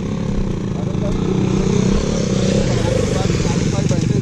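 A Yamaha R15 V3 motorcycle racing on a highway, its engine a loud steady buzzing drone throughout, with someone talking over it.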